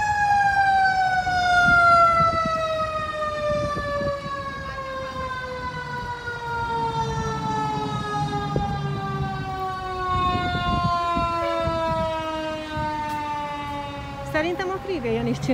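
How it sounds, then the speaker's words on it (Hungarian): A fire truck siren wails on a Los Angeles freeway, a loud, slowly falling tone heard over traffic noise as the engine passes and moves away, with a voice talking over it at times. "most nagyon megy arra a tűzoltó"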